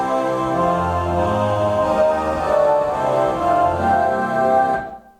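Roland FP-90 digital piano playing a choir pad voice: sustained, airy vocal-like chords that shift smoothly from one to the next, close and full, then fade out at the end with no speech.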